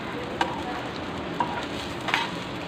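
Beef shami kababs fry in shallow oil with a continuous, even sizzling hiss, broken by a few light utensil taps, close by and with no voices.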